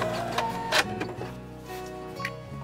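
A sewing machine stitches the seam of a bench cushion with a steady mechanical whir and light ticking, close and fairly loud throughout, with no talking.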